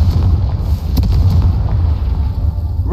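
Loud, continuous fiery explosion from a Confringo fire spell in the Hogwarts Legacy video game, a dense roaring blast with sharp bursts layered on top, close and dominant throughout.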